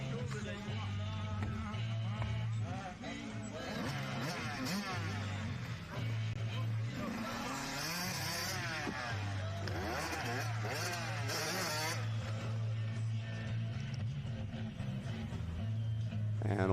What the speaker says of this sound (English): watching the Kawasaki machine of Austin powering his way around the outside, launching over that tabletop